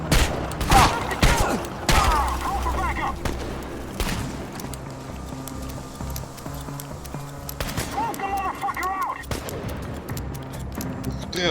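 Scattered gunfire bursts in the video game Chernobylite, several sharp shots at irregular intervals mixed with thuds and other game sounds, with a voice talking at points.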